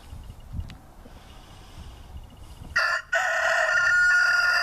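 A rooster crows loudly and close by, a long sustained call rising over quieter background clucking and rustling.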